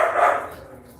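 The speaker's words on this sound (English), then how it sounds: "Those are huskies barking." A husky gives a single short bark that fades over about a second, heard close and fairly loud with no talk over it.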